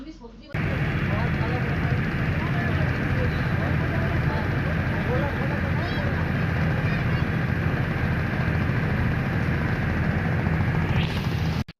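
A passenger launch moves along the river where the Ganga and Yamuna meet. Its engine makes a heavy, constant, loud droning rumble with broad noise that runs almost the whole time, then cuts off abruptly at the end.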